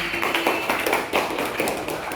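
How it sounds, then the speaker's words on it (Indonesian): Classroom applause for a student named Rizky during a teacher-training lesson at Universitas Negeri Makassar: a small group's light, uneven claps with a steady tapping rhythm, close and moderately loud for about two seconds. "Beri tepuk tangan buat Rizky"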